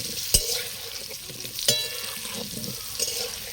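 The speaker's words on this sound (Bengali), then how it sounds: "আলু ভাজা চলছে, ঠিক আছে।" Potatoes frying in a pan for mutton curry, a soft steady sizzle with a few sharp utensil knocks against the pan.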